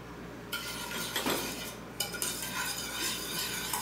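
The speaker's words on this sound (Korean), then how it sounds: "잘 섞어주신 다음에" A spoon briskly stirs soy sauce, sugar and sesame oil together in a bowl, giving close, steady scraping and light clinking with no talk over it.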